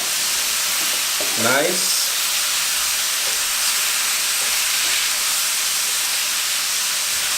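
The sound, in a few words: beef and juice sizzling in a fajita pan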